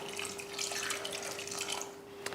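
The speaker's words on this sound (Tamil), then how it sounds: "தண்ணி ஊற்றிடலாம்." Water poured into a pressure cooker holding tomatoes, dal and turmeric, a steady close splashing gush with a faint tonal hum beneath, ending in a brief clatter.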